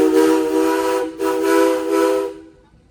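A steam whistle at a farmers and threshermen's jubilee parade gives two long, loud blasts with a brief break between them, then cuts off into quiet.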